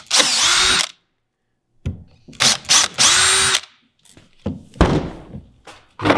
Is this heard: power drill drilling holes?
yes